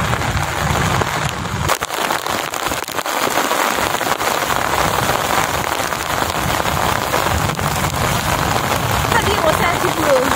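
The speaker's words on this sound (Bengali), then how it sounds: "প্রচুর বৃষ্টি হচ্ছে।" Heavy rain pours steadily on a forest-edge fishing spot, a dense, loud roar of drops on surfaces throughout, with a sharp crack near the start and people's voices mixed in under the downpour.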